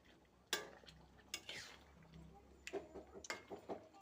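A spoon scrapes and clatters in a cooking pot as vegetables and fish are stirred, with a few sharp metallic knocks and softer scraping between them over a faint sizzle. The sounds are quiet and close.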